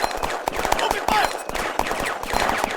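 Rapid automatic gunfire and single shots crackle in dense bursts during a video game firefight, loud and continuous with brief gaps.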